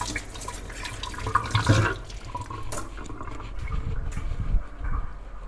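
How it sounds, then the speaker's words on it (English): Running tap water splashes steadily in a kitchen sink as food for a lentil loaf is rinsed, a continuous close wash with some shifting spatter and thumps, no talking. "So I'm going to go rinse this off and put it in my chop machine."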